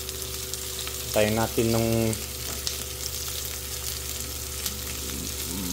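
Sardines with egg sauté in a hot pan with a steady, close sizzle and crackle that runs throughout, while a voice briefly talks over it near the start.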